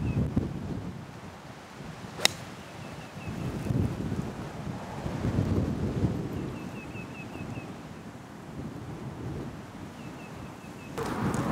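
Strong wind blowing across a golf course in Austin, a steady roaring rush of buffeting gusts hitting the microphone throughout, with a sharp click near the start and no talking.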